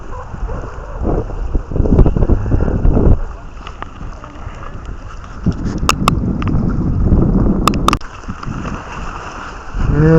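Wind gusting across a small breakwater with tetrapods at Sacheonjin harbor, a steady loud rumble and buffeting on the microphone that swells and eases, with occasional brief clicks and knocks from fishing gear nearby.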